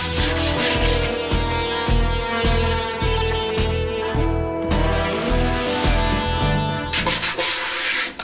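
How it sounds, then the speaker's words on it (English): 600-grit sandpaper rubbing over black paint on a Honda CB500 café racer gas tank, a steady rhythmic back-and-forth scratching that repeats in quick strokes, close and fairly loud throughout. "I'm going to hit it with some 600 grit sandpaper."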